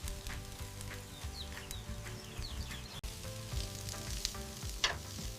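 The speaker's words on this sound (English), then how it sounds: "Brush a little oil on top while grilling to keep the kofta kebabs juicy" Chicken kofta kebabs sizzle and crackle steadily on a poolside grill, a continuous close frying hiss with scattered pops, and no talking.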